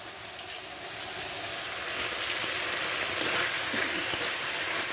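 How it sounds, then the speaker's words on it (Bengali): Potatoes frying with ground spices in a pan for a fish curry with water lily leaves make a steady, close crackling sizzle that grows slightly louder over the clip, with no talk. "দিয়ে আমি ভালোভাবে আলু কষিয়ে নেব।"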